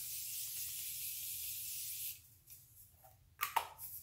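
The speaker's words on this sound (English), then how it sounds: "I'm just going to spray my face one more time." Face setting spray hisses from a pump bottle in one steady close burst of about two seconds, followed by quiet handling sounds.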